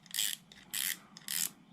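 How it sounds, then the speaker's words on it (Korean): Three rasping clicks come from the drag knob of a Shakey 3 fishing reel, evenly spaced and close up but quiet, each a short burst of bright ratcheting with no talk. "요건 드랙 노브음."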